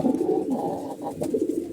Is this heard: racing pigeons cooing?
yes